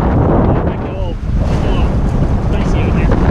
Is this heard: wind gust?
yes